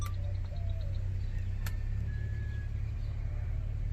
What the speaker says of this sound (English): Okay, so the car starts.